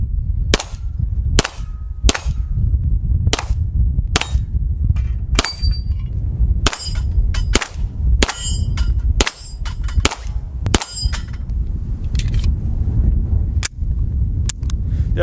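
A Beretta M9A3 9mm pistol fires about twenty sharp shots at close range. Each shot is followed by a bright metallic ring from the steel targets, irregularly spaced, sometimes in quick pairs, with no talking.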